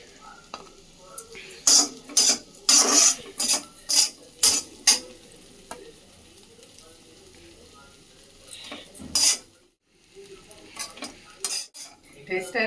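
Egg frying with leftover chapati in a pan, with repeated sharp scraping and clattering strokes of a spatula over a soft sizzle, busy at first, then quieter with a few later bursts.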